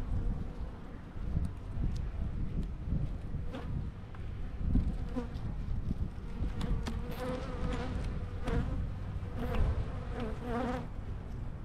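Honeybees buzz at an open hive with no smoke in use. A dense, continuous hum rises and falls throughout, close to the microphone, with some wind noise and occasional louder passes of single bees.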